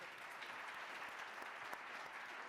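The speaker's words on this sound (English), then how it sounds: "Can we give them a round of applause" A conference audience at a winter meeting on youth mental health applauds a panel, giving an even, continuous round of clapping that sounds soft and distant.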